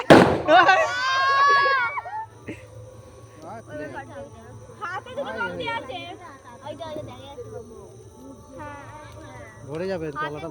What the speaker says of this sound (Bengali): এই বম ফাটছে না ফাটবে এই দেখ পড়ছে পড়ছে